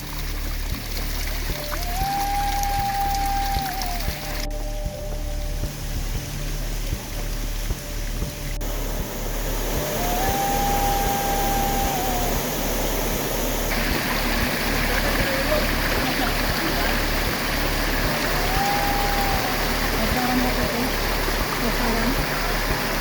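Tataran Falls, a waterfall pouring into a basin-like pool, gives a continuous rushing roar that fills the whole stretch, with faint tonal sounds drifting over it.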